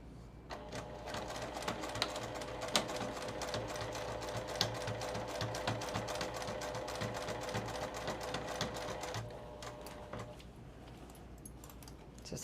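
Sewing machine running steadily as it stitches a row of gathers on a long skirt made from an old dress, a fast continuous mechanical whir with needle clatter that eases off near the end.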